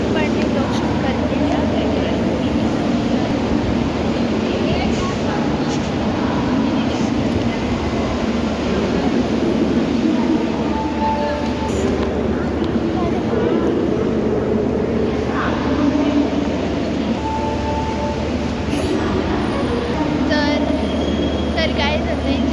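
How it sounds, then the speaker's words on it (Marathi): A train pulls into a busy railway station with a continuous loud rumble of rolling wheels. Faint squeals and station noise rise over it throughout. "कदाचित इथे ट्रेन येणार आहे आमची"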